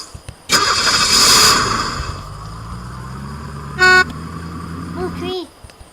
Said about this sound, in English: In our four-wheeler.